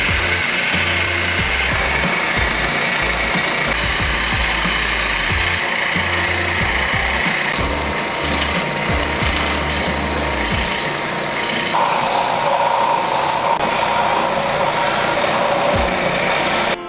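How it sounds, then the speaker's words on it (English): A belt sander grinds the edge of a forged Japanese-style marking knife, a loud, unbroken roar of abrasive rasping that holds steady for the whole stretch, its pitch shifting slightly as the blade is pressed and moved. "now we're going to refine that edge right here on the belt sander"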